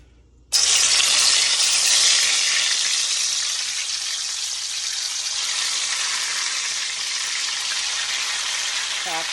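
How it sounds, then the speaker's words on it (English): Seasoned oxtails dropped into a hot pot set off a loud, sudden sizzle that holds steady and fades slightly as the meat keeps frying. "So, I'm gonna add my oxtail."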